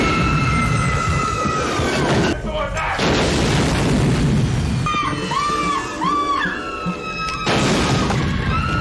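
Explosions from the film Frankenhooker, loud booming and crashing bursts mixed with a dramatic music score and electronic whines, dense and continuous throughout.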